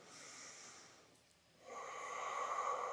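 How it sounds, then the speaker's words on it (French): Calm breathing during a Pilates exercise with a baton: a long soft exhale, a brief pause, then a steady drawn-out breath, close and quiet, with no talking. "nous respirons tranquillement en regardant loin devant soi"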